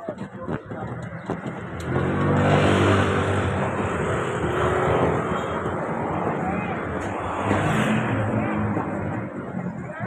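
Traffic rolling along Kapulong Highway toward the pier: a steady wash of passing vehicles with engine swells, moderately near, while someone on foot talks over it.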